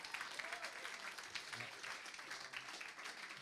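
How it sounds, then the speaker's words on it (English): Audience applause at a live Cork comedy night, a steady moderate clapping wash running the full length, slightly distant and even in level. "Can you give him applause?"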